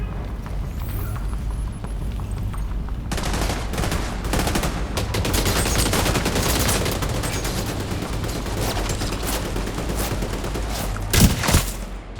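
Sustained gunfire in The Division 2, dense overlapping bursts of automatic weapons and shots rolling continuously for the whole stretch, loud and close, with a sharper louder crack near the end and no talk.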